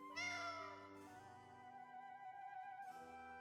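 A cat in the Tales of Vesperia video game meows in a long, drawn-out, tonal cry, loud and near, with no talking over it.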